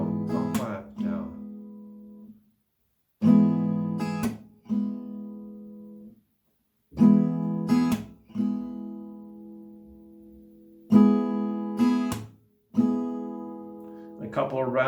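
Acoustic guitar strummed in a steady down-up pattern for a song lesson, with short gaps between bursts where a clap falls; the chords ring out clearly and fairly close.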